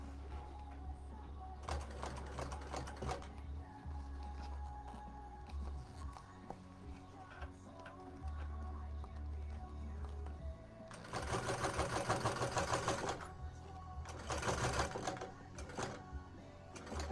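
A sewing machine top stitches fabric in several close, buzzing bursts of rapid needle strokes, separated by pauses with quiet handling sounds and a speaking voice.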